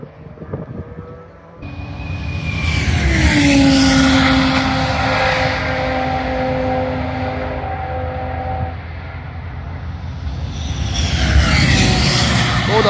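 Race cars, a Lamborghini and the Grello Porsche, rush past at the Nürburgring, swelling to a loud, sustained engine roar over wind noise and fading, with a second car surging in near the end.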